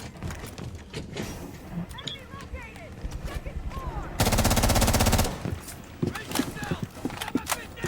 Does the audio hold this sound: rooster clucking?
no